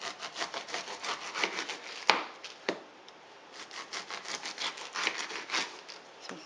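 A knife slices through a pineapple's tough rind with quick, rhythmic sawing and rasping strokes, close and fairly quiet, broken by a couple of sharp knocks against the board.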